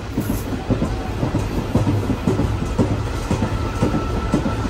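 The Tirupati–Villupuram Express passenger train runs with a loud rumble close by, heard from on board. Steady clickety-clack wheel beats repeat in a regular rhythm.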